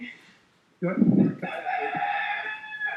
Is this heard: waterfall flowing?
no